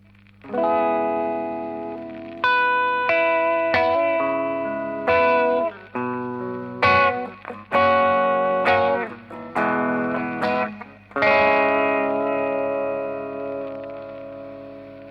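A Strymon Mobius pedal puts a warbling, wax-like lo-fi vinyl effect on an electric guitar, heard as a run of sustained, wavering chords and notes with clear attacks and reverb tails, and no voices.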